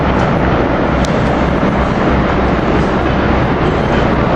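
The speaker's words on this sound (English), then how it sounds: "Here we have AM7 943 leading what I think is Regional 195." An Amtrak AEM7 electric locomotive, number 943, leads a Regional train past 30th Street Station in a loud, unbroken roar of wheels and motors close by.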